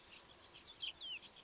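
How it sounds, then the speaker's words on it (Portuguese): A male saddle bush-cricket, endemic to Portugal's western coast, stridulates by rubbing its small wings, giving a few soft, short metallic chirps against a quiet background. "Um grilo de sela capuchinho, endémico do litoral oeste de Portugal."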